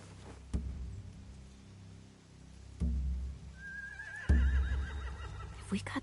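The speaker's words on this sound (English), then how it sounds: "They have horses." A horse whinnies with a wavering, rising neigh amid low rumbling ambience and a few thuds in The Walking Dead video game, with voices murmuring underneath.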